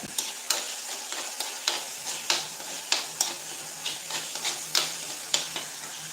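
A ginger, garlic and chili paste sizzles and fries in hot oil, with a regular series of sharp scraping taps as it is stirred, close and steady.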